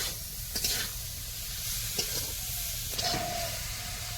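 Steady sizzling of food frying in a kadai (wok), a continuous hiss with a few brief clinks and scrapes of stirring.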